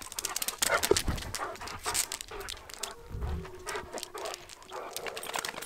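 A large, energetic dog pants rapidly and whimpers close by in an indoor space, with irregular breathy bursts and occasional pattering movement.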